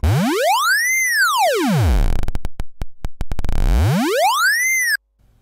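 A Sylenth1 synth note with sine LFO pitch modulation sweeps smoothly up and then back down in a slow arc, briefly stutters in pulsing bursts midway, then repeats the rising and falling glide before cutting off abruptly.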